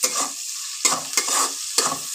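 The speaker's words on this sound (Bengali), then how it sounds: "আগে লাল লাল করে পেঁয়াজ কুচিটাকে ভেজে নিই" Chopped onion frying in a pan over raised gas heat, with a soft continuous sizzle broken by three or four sharp spatula scrapes against the pan, close and clear with no talk.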